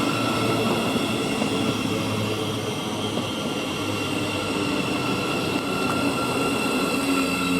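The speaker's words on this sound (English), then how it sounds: "Now Another arriving in 700-041 from Luton to Raynham." A Class 700 Thameslink train arriving at a station platform, a steady loud rumble and hum of wheels and traction with a faint high whine throughout, no voices.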